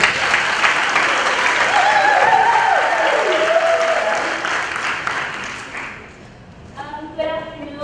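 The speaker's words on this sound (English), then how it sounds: "Give a round of applause." Audience at a homecoming panel event gives a loud, sustained round of applause mixed with voices and cheers, fading out as a single voice begins speaking near the end.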